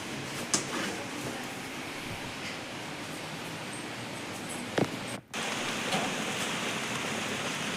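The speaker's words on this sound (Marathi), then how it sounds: "टिप टिप टिप टिप पाऊस बाहेर मस्त सुरूच आहे." Steady rainfall hissing outside, a continuous even wash of noise with a few faint knocks in the background.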